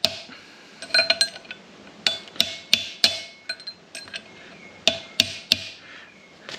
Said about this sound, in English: use a hammer and a punch